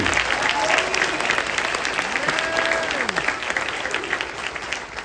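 An audience applauds middle school jazz students at a district jazz concert, a steady wash of clapping held for about five seconds and tapering slightly at the end, with faint voices mixed underneath.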